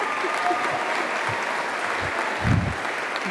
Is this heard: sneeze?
no